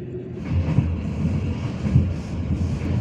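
KA Bengawan Solo passenger train running on the rails through the night in Java, heard from inside the carriage as a steady low rumble with rhythmic wheel thumps and clatter, no voices.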